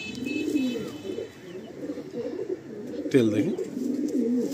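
Male Kaldam pigeon cooing in repeated low, throaty rolling phrases close by, one louder burst near the end, with someone talking quietly over it.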